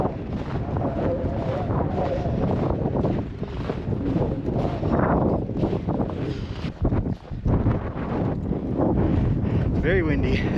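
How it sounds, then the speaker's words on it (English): Strong gusting wind buffets the microphone on a frozen lake during a storm, a loud, constant rumbling roar that swells and dips. Someone talks over it at times. "It's very windy, and this is slippery, so gotta be extremely careful."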